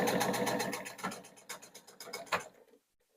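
A sewing machine stitches the binding strap of a cross-body phone tote in a close, rapid mechanical run. The needle chatters in bursts that slow and stutter before stopping into silence.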